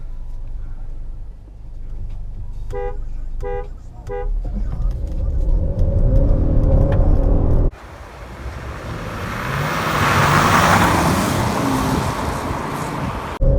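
Turbocharged Mazda6 and Honda Accord sedans drag race: several short horn toots, then an engine droning and building under heavy acceleration, with a sudden shift to loud broadband road and wind rush as speed climbs.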